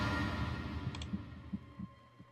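A heartbeat sound effect in the visual novel game 999 throbs softly as low, evenly spaced thumps over a humming ambient drone, with no voices.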